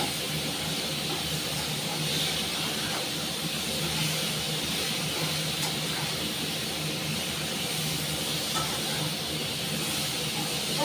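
Potatoes and broad beans frying in oil in a pan, a constant broad hissing sizzle that stays even and close for the whole stretch, with no clear breaks.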